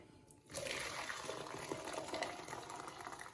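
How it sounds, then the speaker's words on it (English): Red cabbage juice, just simmered, is poured through a sieve into a jug, giving a steady splashing, trickling liquid sound that begins abruptly and carries on continuously, fairly close. "it's time to sieve the red cabbage juice into a jug"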